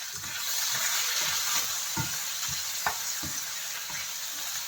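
Tomatoes dropped into a sizzling pan with pork liver, a bright steady frying hiss broken by repeated low stirring thumps and scrapes, close up.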